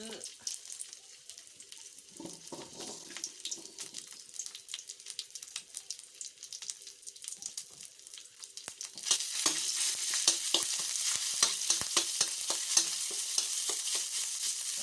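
Homemade curry paste stir-fries in a little oil for a bitter melon curry, a soft crackle with clicking stirs that swells into a louder, steady sizzle partway through, close by and without speech.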